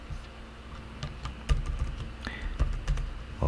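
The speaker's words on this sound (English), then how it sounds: "we're gonna be typing router" Steady clicking of computer keyboard typing while coding an Express router in JavaScript, a run of quick uneven keystrokes with a few louder taps, close and fairly quiet.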